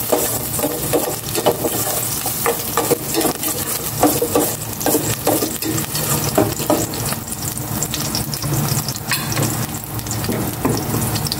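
Garlic sautés in a pan, giving a continuous loud sizzle broken by repeated scraping stirs, close up and with no voices.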